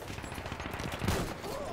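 Sniper gunfire in the Battlefield 1 video game sounds as a dense, rumbling burst of shots and battle noise, with one louder crack near the middle of the mix.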